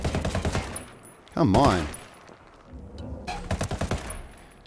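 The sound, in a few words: MK-17 rifle gunshots in Ghost Recon Wildlands video game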